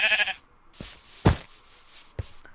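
A Minecraft sheep bleats a few times in short, close calls, with brief gaps of quiet and other small game sounds between them.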